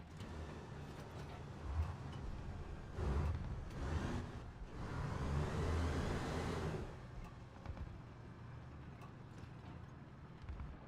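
A tank engine drives at speed in War Thunder Realistic Battles, a steady low rumble with rising, swelling surges around the middle, continuous and fairly close throughout.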